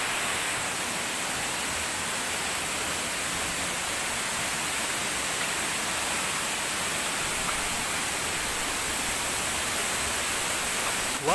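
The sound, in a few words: waterfall, water falling over rock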